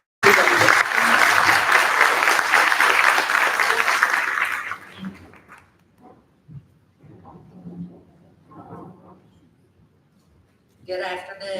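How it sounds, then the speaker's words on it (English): Full, loud crowd applause at a charity luncheon fills the first few seconds, then fades into a quiet room with scattered murmurs, footsteps and a voice starting to speak at the end. "if we could give them a round of applause for all that they do at the facility"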